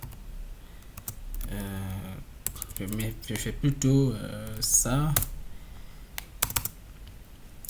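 Rapid clicking keystrokes on a computer keyboard while someone speaks French close by, with the typing continuing in short bursts between his words.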